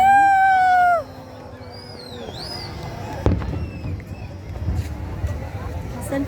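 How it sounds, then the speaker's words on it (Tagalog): Scattered distant fireworks bursts and crackles over the sea at an Oman National Day display, under steady crowd noise, with a sharp pop near the middle; the opening second carries a loud held tone. "there's some fireworks over there"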